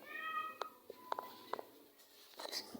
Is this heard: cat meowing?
yes